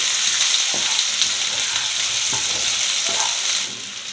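Chopped onions fry in hot oil for a bhuso chingri prawn dish, a loud continuous sizzle broken by several short scraping stirs, the sizzle easing slightly near the end.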